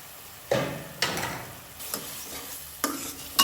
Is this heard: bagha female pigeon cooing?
no